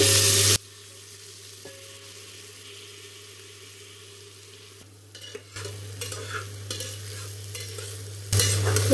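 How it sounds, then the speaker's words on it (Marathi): Rice sautéed in a spice mixture for chicken biryani, stirred in a hot pot with a steady low sizzle and scraping, brief louder bursts at the start and end, no voices. "त्याच्यामध्ये आपण चांगले परतून घेऊया।"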